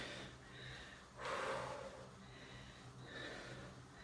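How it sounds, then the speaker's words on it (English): Heavy, quiet breathing of a person during a strength and plyometric HIIT workout: a few soft gasping breaths with one stronger, longer exhale near the middle. "You hear me breathing?"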